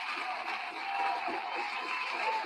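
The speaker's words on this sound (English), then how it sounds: "Give that a round of applause." A crowd gives a steady round of applause, a dense, even wash of clapping and murmur that holds for the whole stretch without pause.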